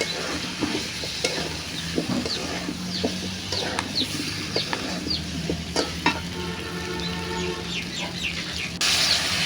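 Potatoes fry in spice paste in a pan with a steady sizzle and repeated stirring scrapes, while a chicken clucks faintly in the background.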